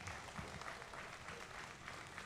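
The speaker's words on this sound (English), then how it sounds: "Let's give him a big round of applause." Crowd applause at a county fair livestock show, greeting the senior showmanship winner with his Holstein; steady, fairly faint clapping from a spread-out audience throughout, with no talk.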